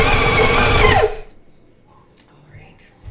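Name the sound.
electric mixer mixing banana bread batter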